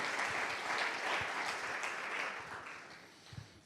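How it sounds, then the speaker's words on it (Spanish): A church congregation claps in praise during a sermon, dense sustained applause that fades slightly toward the end. "Dale un fuerte aplauso a Él en esta noche"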